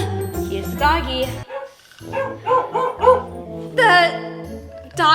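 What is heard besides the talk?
dog barking ringtone on a phone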